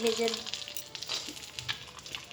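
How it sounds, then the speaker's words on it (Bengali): Peanuts frying in ghee in a wok, a close sizzling crackle with short stirring scrapes, no talking. "এই ঘিয়ের মধ্যে চিনি বাদামটা ভেজে নেব।"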